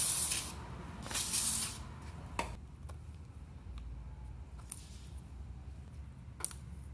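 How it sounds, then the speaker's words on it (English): Silicone spray hisses in two short bursts onto valve cover grommets on a Toyota/Lexus 4.7 engine, close and loud, followed by faint ticks and handling noises in a quiet workshop. "just in case, we got the silicone spray. I'll just give them a little douche."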